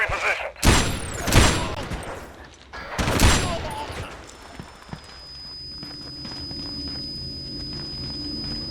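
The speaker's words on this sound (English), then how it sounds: "We've been made, and we're taking heavy fire." Heavy gunfire in the Xbox Ghost Recon Advanced Warfighter video game, several loud explosive bursts over the first few seconds, then quieter ambient noise with a steady high tone and a faint single hit.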